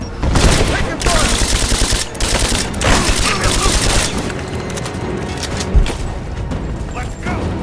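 Dense gunfire and explosions fill a combat firefight in Rise of the Tomb Raider, with loud rapid bursts and booms running throughout while soldiers shout callouts over the noise.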